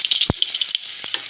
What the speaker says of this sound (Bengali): সবারই প্রথমে আমি আলুগুলো ভেজে নেব।